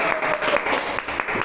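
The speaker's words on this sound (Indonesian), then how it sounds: "Oke, tepuk tangan dong untuk Nadira." Studio audience applauding for a guest named Nadira during a school podcast, a steady wash of clapping throughout at moderate volume with no clear talk over it.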